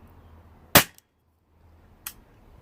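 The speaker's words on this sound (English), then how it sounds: "So first shot on full power." A Weihrauch HW45 air pistol fires at full power: one sharp, loud crack, then a fainter second snap about a second later, with quiet in between.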